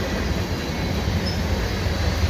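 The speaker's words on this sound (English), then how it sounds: "CN train here at Montclair Station" A westbound CN freight train led by ES44AC locomotives passes Montclair Station, producing a constant dense rumble of rolling wheels and cars at fairly close range.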